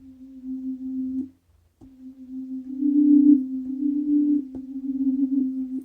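A single sustained synth tone from a Roland Verselab MV-1 holds steadily while the gate stays open, then briefly cuts out and resumes, swelling slightly in loudness, clean and alone with no talk.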